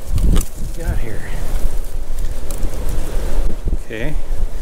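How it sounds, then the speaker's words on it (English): Gusty wind blows across a microphone at an old farm dump outdoors, a steady loud rumbling roar throughout, with a voice briefly heard over it. "Boy, it's getting windy out here."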